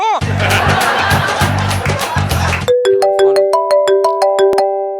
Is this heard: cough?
no